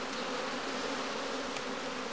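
Honey bees buzz steadily around straw heather skeps, a dense, continuous drone that holds at the same level from start to finish with no voices.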